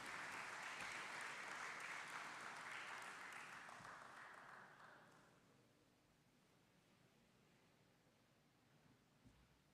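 Audience applause for a presenter at a corporate tax seminar, loud and steady for about four seconds, then tapering off into quiet room tone.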